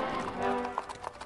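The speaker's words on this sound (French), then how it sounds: "Quand arriva le 3e jour, un carrosse s'avança. Il était tiré par un attelage de 6 chevaux." Steady clip-clop of hooves from a carriage drawn by a team of six horses, rapid overlapping beats over a continuous rolling rumble with faint musical tones.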